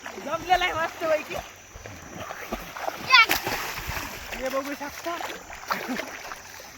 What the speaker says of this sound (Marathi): पाणी उडलं